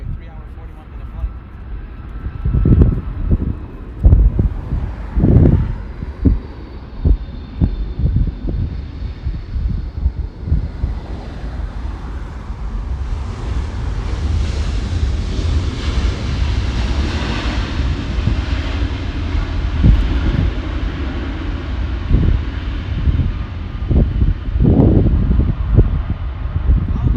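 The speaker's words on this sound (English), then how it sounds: "We have a 757 United Airlines 234 flying in from Chicago, a 3-hour, 41-minute flight." A United Airlines Boeing 757 flying in from Chicago rumbles on its approach to land, a broad engine roar swelling and holding with wind buffeting the microphone, while people talk over it.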